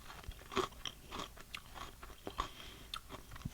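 Light, airy vegan chocolate candy is bitten and chewed close up, giving a quick series of crisp crunches and crackles with no talking.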